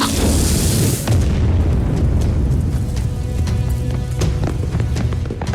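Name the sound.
explosion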